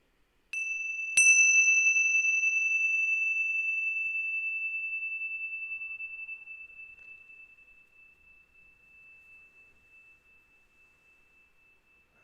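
A meditation bell is struck twice in quick succession, giving a pure, clear ring that hangs and fades very slowly over about ten seconds in otherwise complete quiet.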